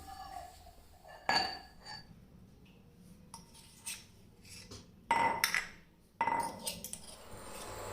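Chutney of pounded garlic and chilli powder being scraped into a bowl, with metal utensils clinking and scraping in several sharp bursts, loudest near the middle and end, over a quiet kitchen background with no talk.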